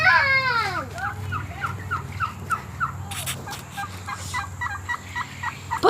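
Farm turkeys gobble close by in rapid bursts, one long rattling call followed by a run of repeated gobbles from several birds, with children's voices faintly in the background.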